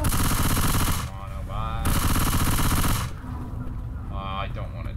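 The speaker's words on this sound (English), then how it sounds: "Oh, Dan, I'm still with that machine gun, man." Machine gun in the Left 4 Dead 2 video game firing in two long sustained bursts, loud and rapid, with a break between bursts where other game sounds come through.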